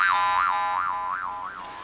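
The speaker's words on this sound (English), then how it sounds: "The juice harp is the instrument that you can put against the mouth" A Siberian jaw harp held against the mouth twangs with a close, bright drone whose pitch sweeps up and down in a steady wavering rhythm, about five smooth swells, played alone.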